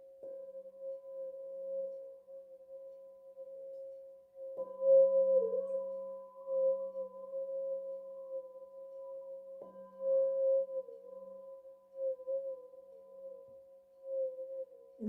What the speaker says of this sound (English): bowls are full of overtones, harmonics.